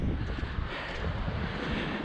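Wind buffets the microphone outdoors on a long, windy moorland track, a continuous broadband rumble and rush that holds steady without letup.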